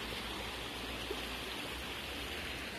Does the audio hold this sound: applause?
no